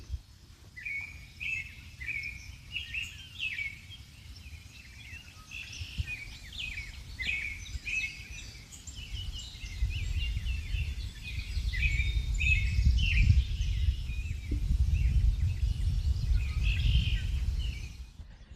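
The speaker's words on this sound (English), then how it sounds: "And you can hear the birds twittering" Birds twittering beside a quiet country road in Indiana on a warm day, with repeated bright chirps and trills over a low rumble that swells toward the end, likely a passing vehicle.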